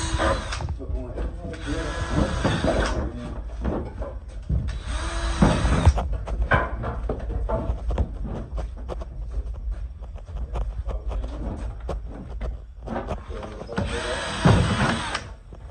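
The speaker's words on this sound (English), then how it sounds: "Drilling for our marks." A power drill whirs in four short bursts spaced across the recording, drilling marks during single-wide mobile home roof repairs, with people talking and work noise in between.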